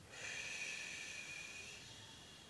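A soft, breathy exhale during a relaxation breathing exercise, a faint steady hiss lasting a couple of seconds and heard alone.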